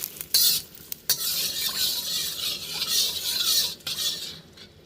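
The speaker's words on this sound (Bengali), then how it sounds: "তেলটা গরম হয়ে গেছে, ফোড়নে দিয়ে দিচ্ছি শুকনো লঙ্কা আর তেজপাতা।" Dry red chillies and bay leaves hit hot mustard oil in a kadai and sizzle loudly and close. A spatula scrapes and clatters against the pan in bursts while the frying keeps up a steady hiss.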